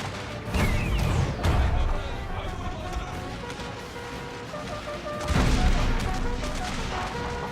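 Artillery and gunfire in a Civil War battle video game set at Fort Wagner, with heavy booms at the start and again near the end over a rumbling battle din and crackling volleys.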